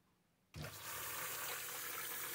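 A Samsung dishwasher with a low-flow fault starts filling: after near silence, water abruptly rushes in and settles into a steady, close, hissing flow that continues to the end, with no talk.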